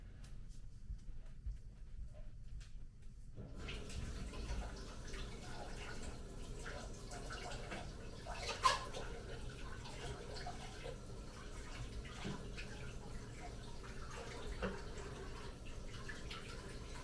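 Running water rinses a coffee brewer used for Rwandan Nyamyumba coffee, a soft, steady tap-water splash that starts after a few quiet seconds and continues faintly to the end.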